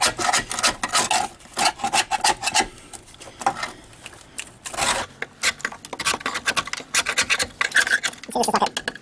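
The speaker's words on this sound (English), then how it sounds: "So we scrape all this old gunk off." Old seam sealer gunk is scraped off the body of a Mercedes-Benz 280TE W123 during rust repair: close, irregular rasping and scratching strokes in quick bursts, with someone talking over parts of it.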